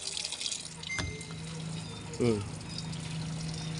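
A Samsung Wobble 7.5 kg washing machine fills with water in a steady, close rushing flow that runs through the whole moment, with a voice talking briefly over it and a short knock near the start.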